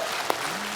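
Audience on a Hindi TV comedy show claps as a singer guest is welcomed, a short wash of steady applause with one sharper clap standing out.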